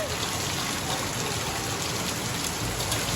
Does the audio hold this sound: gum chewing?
no